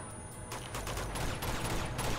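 Machine gun fire in the Uncharted 2 monastery level, bursts of rapid shots rising in loudness after a quieter opening, continuous and close, with sharp cracks repeating through the last second and a half.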